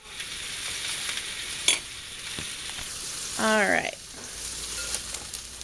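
Beef frying in a pan, a steady close sizzle running throughout with a brief sharp clink partway and a short spoken word near the middle.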